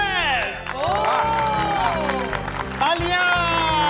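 A crowd claps and cheers at an award celebration, the applause running continuously beneath lively music and overlapping voices.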